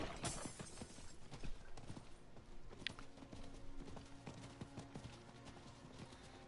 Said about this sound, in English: Let's hop on the horse and let's start riding.